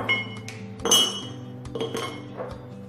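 Chocolate and butter dropped into a dish in a kitchen, giving a few close, bright clinks and knocks of tableware and utensils at irregular moments, fairly loud, with no talk.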